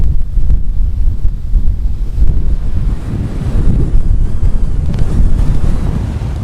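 Strong gusts roar steadily against a lightweight Montbell umbrella outdoors, with loud, continuous low buffeting and microphone wind rumble throughout.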